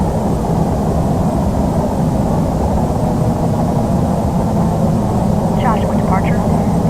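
Boeing 747 jet engines climb in Flight Simulator X, a steady, loud, broad rumbling roar that holds throughout, with a radio voice speaking over it.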